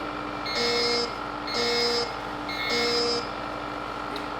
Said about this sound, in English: high level alarm activated